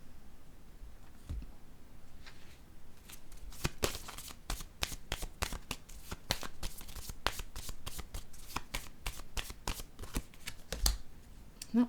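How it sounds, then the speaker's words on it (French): Tarot cards are shuffled and drawn by hand, with a rapid run of crisp riffling snaps in the middle and a few softer slides and taps before and after, close and quiet. "Je vais piger une autre carte ici."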